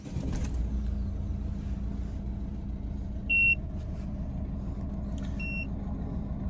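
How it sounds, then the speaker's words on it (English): Citroen/Peugeot car engine idling with a low steady rumble, close and moderate, while two brief dashboard warning beeps sound a couple of seconds apart. "I'm going to start the car."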